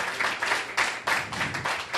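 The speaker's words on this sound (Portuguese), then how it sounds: "as palmas são para o Rei" Applause rises in bursts through a church congregation as worshippers clap for Jesus, dense and steady across the moment, with no voices over it.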